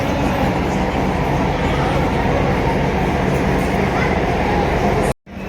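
A train rumbles loudly and continuously at Jodhpur railway station, a dense steady roar from start to finish that cuts off abruptly for a moment near the end.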